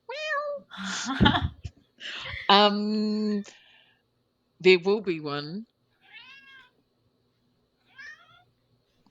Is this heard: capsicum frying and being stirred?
no